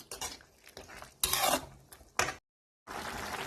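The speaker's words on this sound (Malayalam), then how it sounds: "ഇനി നമുക്ക് ഇതൊക്കെ ഒന്ന് ഈ ഉരുളക്കിഴങ്ങും ഇതൊന്ന് മിക്സാക്കി ഇങ്ങനെ ഒന്ന് ഇളക്കി കൊടുക്കാം" A spoon scrapes and clanks around a pot while green peas and potato curry are stirred, with a few loud bursts of stirring, a brief silent gap, then steady scraping again.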